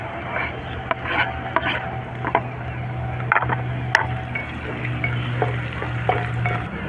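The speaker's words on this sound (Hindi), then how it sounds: "अब इसमें डालेंगे हम 2 बारीक कटी हुई हरी मिर्च।" Finely chopped green chilies sizzle steadily in a pan over a low flame with ginger and garlic, while a spoon scrapes and clinks against the pan as the mix is stirred.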